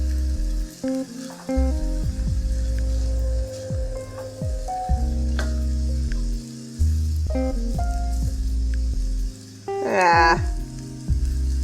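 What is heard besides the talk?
fried rice sizzling in a pan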